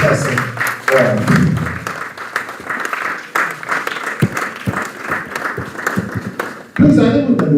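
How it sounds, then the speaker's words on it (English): An audience at a National Road Safety Authority event applauds the Deputy Minister for Transport, with loud clapping that fades and then bursts up again near the end, while voices talk over the crowd. "let me bring your indulgence so we give him a pulsating round of applause"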